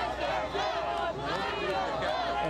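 A crowd of demonstrators gathered outside a courthouse in New York, a continuous mass of shouting and cheering voices at moderate distance, with no single voice standing out.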